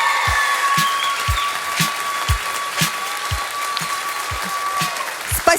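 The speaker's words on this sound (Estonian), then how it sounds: "Aitäh lastele, plaksustame." Audience applause at the finale of a spring concert, dense steady clapping from a crowd mixed with louder individual claps close by, continuing throughout with a faint tone in the background.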